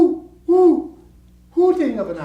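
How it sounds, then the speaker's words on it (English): Owl hooting in deep wilderness woods, two clear, fairly loud hoots about a second apart, each a wavering tonal call over faint background. "hooting of an owl, like a prayer from the deep wilderness"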